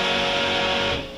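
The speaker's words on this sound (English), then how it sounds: "And so that F bar chord sounds like this." A single F barre chord strummed on an acoustic guitar, with the two highest strings barred, ringing out loud and close for about a second before starting to decay.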